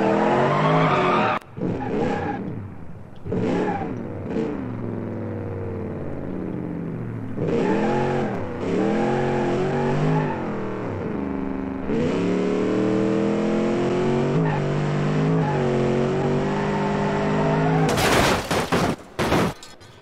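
V8 car in the BeamNG Drive driving game, its engine revving loudly and steadily through most of the stretch with sharp skids and tire squeals breaking in near the start and again at the end.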